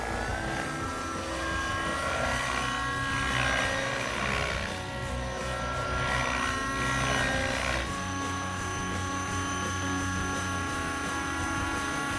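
A small radio-controlled model helicopter's buzzing rotor and engine whine hold steady throughout, rising and falling slightly in pitch as it flies backwards and in figure eights nearby.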